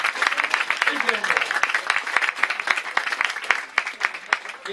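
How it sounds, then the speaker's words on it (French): A crowd applauds the crêpe makers at a 2015 telethon in Abers, dense steady clapping from many hands filling the room, with a voice speaking over it. "Merci de les applaudir également."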